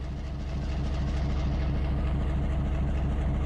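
Diesel locomotive with a 6-567 engine sound mod in the railroad video game Railroader, a steady low rumbling idle droning evenly and continuously, moderately loud with no talk.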